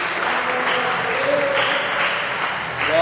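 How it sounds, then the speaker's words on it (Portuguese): A church congregation claps together in joyful applause, a steady wash of many hands throughout, with faint voices and a brief tonal call mixed in. "dando uma salva de palmas bem alegre para Jesus"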